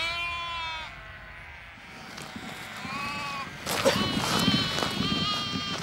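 Sheep and lambs bleat in an outback paddock where ewes are lambing, several overlapping calls near and farther off, some long and wavering, with a crow cawing briefly amid the flock.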